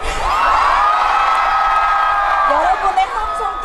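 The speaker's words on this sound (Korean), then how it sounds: "여러분 많이 많이 함성 질러주세요." A large crowd at a university festival concert cheers and screams loudly and steadily, a dense wall of whoops and shouts that tapers off near the end.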